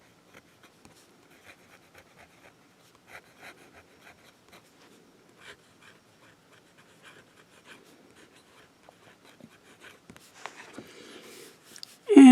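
A fountain pen with a fine nib scratches across paper in faint, soft strokes and short pauses, quiet and close, ending in a louder rustle of paper.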